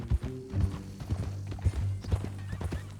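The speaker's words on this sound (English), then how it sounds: "That new horse?" Horse hooves clip-clop in Red Dead Redemption 2, a quick uneven run of close, fairly loud hoof strikes over a low steady rumble, with no voices.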